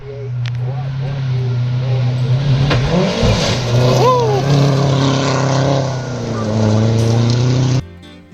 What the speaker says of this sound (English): here's one of the buggies coming through